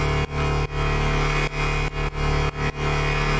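Layered synth basses built in Bitwig Polymer with distortion, comb filtering and a metallic reverb-heavy effects rack, playing a loud, dense buzzing line broken into short rhythmic phrases by brief gaps, with no voices.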